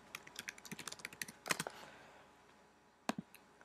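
Text being typed on a computer keyboard: a quick run of close, crisp key clicks, a pause, then a few more keystrokes, with no talking.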